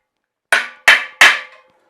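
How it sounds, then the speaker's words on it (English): Three sharp metallic hammer strikes on a centre punch marking a drill hole in a lightweight adventure bike part, evenly spaced and loud, each ringing briefly before fading. "And then we'll centre punch it."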